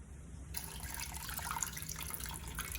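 Homemade doburoku rice wine drains through a filter from a tipped jar, giving a quiet, continuous trickle and patter of liquid with faint drips, close and soft.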